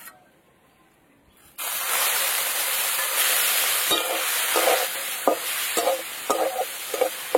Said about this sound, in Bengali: এখানে ভালো করে কেটে ধুয়ে রাখা আছে তেল পটকা দিয়ে দেবো